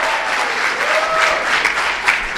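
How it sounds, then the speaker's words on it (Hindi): Loud, dense applause from a crowd at a Hindi comedy poetry gathering (kavi sammelan) honours the host, a continuous close wash of clapping throughout. "एक बार तालियां संचालक के लिए हो।"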